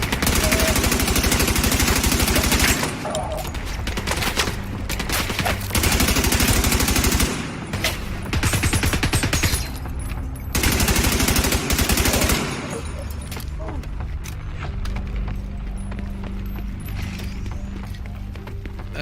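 Automatic gunfire rips through a firefight in The Division 2, with loud sustained bursts that come in three long volleys and sparser shots and mechanical clatter between them, without talk.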